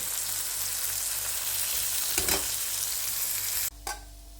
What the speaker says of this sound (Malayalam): ഇത് നന്നായി ഒന്ന് ഫ്രൈ ആയി ബ്രൗൺ കളറായ ശേഷം നമുക്കിത് വാങ്ങി വെക്കാം